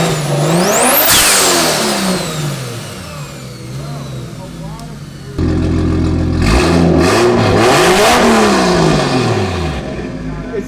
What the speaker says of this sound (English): they call this thing the hair dryer, and you can hear why